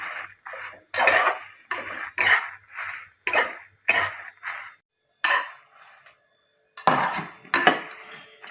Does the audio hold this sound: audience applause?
no